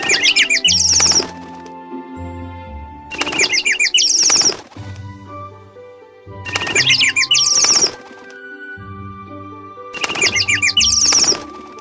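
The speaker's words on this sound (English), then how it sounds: "Bird." Four repeated bursts of bird chirping with fluttering wing flaps, each a second or so long, alternate with a light musical backing in a children's animal-sounds learning game.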